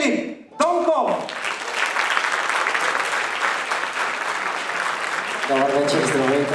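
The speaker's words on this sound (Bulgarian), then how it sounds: "Моля за вашите аплодисменти" An awards-show audience breaks into sustained, steady applause, loud and full, with a voice talking briefly before it starts and again as it fades.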